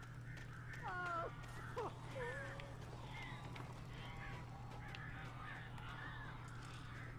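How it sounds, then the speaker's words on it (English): Crows caw in the video game Alan Wake, several harsh calls at moderate distance over a steady low hum, with a few fainter calls trailing off. "Birds over the phone."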